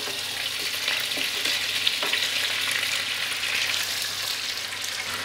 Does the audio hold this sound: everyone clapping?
no